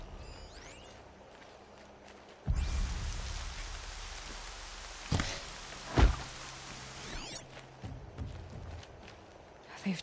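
Steady rain in the PS4 game Horizon Zero Dawn, beginning as a soft hiss and swelling suddenly into a dense, close downpour with a few louder splashes and thumps.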